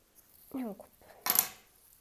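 A single quick snip of scissors cutting crochet yarn, close and brief, following a short spoken phrase in an otherwise quiet room.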